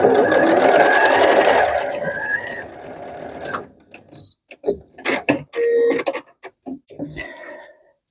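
A sewing machine stitches the brim onto a fabric leprechaun hat, running loud and fast with a steady whir for a few seconds, then stopping and giving short bursts of stitching mixed with clicks and handling noises.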